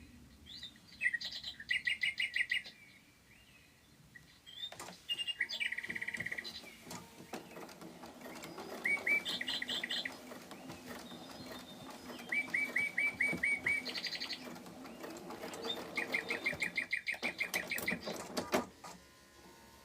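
Antique bird clock chiming the hour indoors, repeated bursts of bright mechanical chirping and warbling birdsong in groups, fairly close and without talk.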